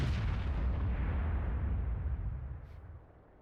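An artillery gun in the video game World of Tanks fires a single heavy, booming shot whose deep rumbling blast starts at once and rolls away over a few seconds.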